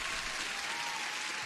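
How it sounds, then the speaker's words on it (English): A short applause sound effect played during a live futures trading stream, a dense, even burst of crowd clapping at low volume with no voices over it. "let me give you an applause"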